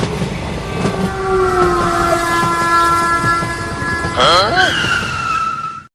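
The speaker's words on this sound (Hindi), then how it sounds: "वो ट्रेन बहुत पास आ गया है" A train approaches close by, its rumbling wheels steady and loud as a sustained horn blares and then bends sharply near the end before cutting off abruptly.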